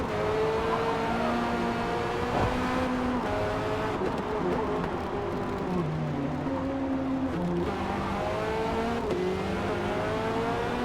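A race car in Forza Motorsport at the Barcelona circuit, its engine note stepping down through gears as it brakes into a corner, then rising again under power, loud and continuous with a faint tire squeal.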